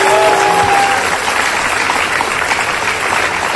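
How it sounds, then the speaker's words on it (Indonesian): A studio audience on an Indonesian talk show claps for two volunteers in a loud, continuous burst of applause, steady throughout with no voices over it. "Yang tidak ikut maju tepuk tangan untuk mereka berdua."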